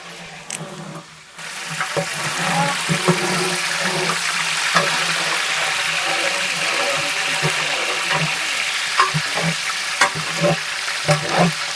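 Onions and green chillies frying in hot oil for a large chicken biryani, a continuous loud sizzle with crackles and occasional stirring scrapes, starting after a brief quieter moment.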